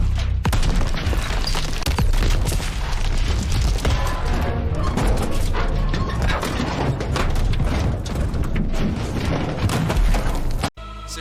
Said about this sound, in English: that is the weakest sounding impacts I've ever heard in a video game